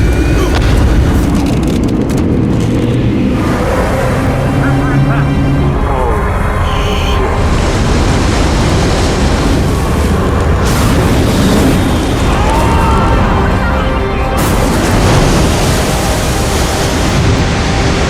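Underwater bomb detonations at sea in an action film, heavy continuous booming rumble with layered blasts and surging water, loud and dense throughout with score and effects mixed in.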